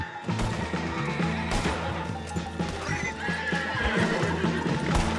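A horse whinnies over steady clip-clopping hooves in the video game Red Dead Redemption II, loud and close against a busy background of game ambience.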